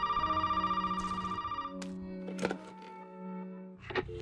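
A telephone rings in the Resident Evil 7 video game, a steady electronic trill repeating for about a second and a half, then stopping, followed by heavy thumping door and movement noises.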